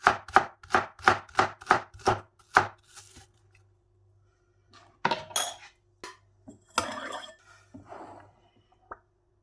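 A knife chops onions finely on a cutting board, about eight quick even strokes, then pauses before a few scattered softer cuts and taps.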